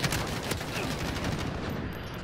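Video game gunfire rattles in rapid continuous bursts, loud and close, with dense overlapping shots throughout and no talking.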